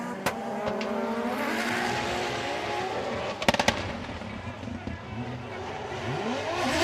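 Toyota GR86 drift cars battle at a Formula Drift Japan event, engines roaring and tires squealing at a distance, with sharp popping bursts midway and a commentator talking over it.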